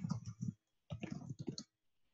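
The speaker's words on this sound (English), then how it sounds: "We can immediately start typing." Quick bursts of clicking keystrokes from typing on a computer keyboard into a Word document, two short runs separated by a brief pause, close and fairly quiet.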